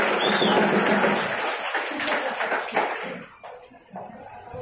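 A burst of clapping from a church congregation during a sermon, fairly close, fading out after a few seconds, with faint voices mixed in.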